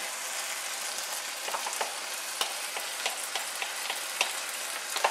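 Marinara sauce being stirred into wilted spinach in a hot pan: a continuous low sizzle with scattered soft clicks and scrapes of a spoon against the pan, nearby and unaccompanied by talk.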